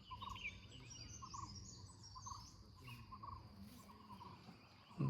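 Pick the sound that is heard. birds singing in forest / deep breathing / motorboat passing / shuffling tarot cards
birds singing in forest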